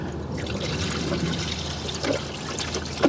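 Pre-mixed universal coolant pours into a Toyota 4Runner radiator in a soft, continuous trickle, close and fairly quiet, with no talking.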